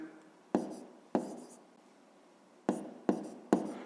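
A pen scratches out a fifth-grade maths solution on paper in five short, crisp strokes, two early and three in quick succession near the end, close and clear in an otherwise quiet room.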